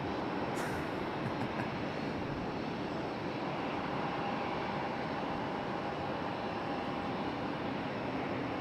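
A Sun Country airliner touches down at Raleigh-Durham airport, heard as a steady, broad, distant jet roar that holds evenly throughout without voices.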